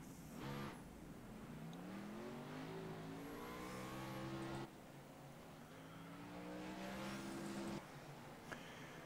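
Race cars in the iRacing Grand National Series at Bristol roar as they accelerate away from a green-flag restart, engines rising in pitch through repeated upshifts, loud and sustained with no talk over it.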